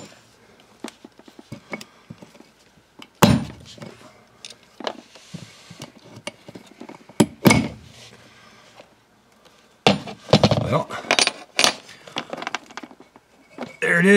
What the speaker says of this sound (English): So I'm going to try using a little wrench and a hammer.